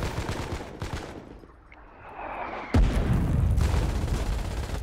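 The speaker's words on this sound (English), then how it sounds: "We're shelling it right now." Artillery shelling in the war game Foxhole, with a burst of rapid gunfire at first, a quieter lull, then a sudden heavy boom followed by sustained rumbling fire and distant blasts.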